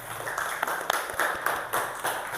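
Primary school children in a fourth-grade classroom clap for a classmate, a scattered round of hand claps in several uneven bursts, moderately close, with faint room murmur.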